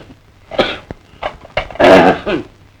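Several harsh coughs and throat-clearing bursts come close by, spaced unevenly, with the loudest, longest cough near the end and quiet gaps between.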